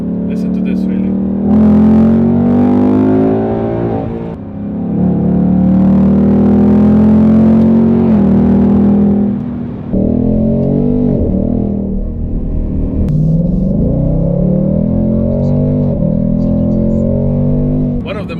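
A Ford Mustang GT V8 exhaust, loud and close, revving up and settling in several swells before a steady drone.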